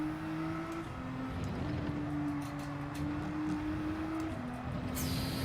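A race car engine in Gran Turismo 7 holds a steady, buzzing drone at high revs, with the pitch dropping sharply as a gear changes and a whooshing burst near the end.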